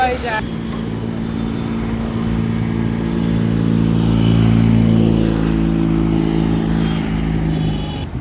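Motorcycle ride near Lonavala, Maharashtra: a steady, close engine drone with wind rush that swells slightly midway, while a rider talks over it.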